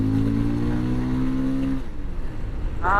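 A Bajaj Pulsar 220F motorcycle running with its dB killer removed gives a loud, steady, buzzing engine note for nearly two seconds. The note then breaks into rough, choppy noise, and a brief higher whine rises right at the end.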